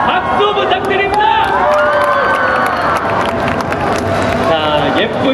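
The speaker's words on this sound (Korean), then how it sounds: "박수 부탁드립니다." Loud crowd cheering and applause at a special concert at Lotte World, with screams and clapping blended into a dense roar and a voice over the top.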